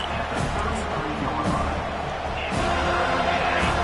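A home crowd at a Seminoles football game roars steadily through a third-down play. The noise is loud and continuous and grows near the end, with some scattered shouts inside the wash.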